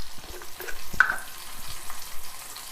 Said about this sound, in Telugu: ఒక స్పూను జీలకర్ర వేసుకొని మంచిగా వేయించుకున్నాక తీసుకుందాం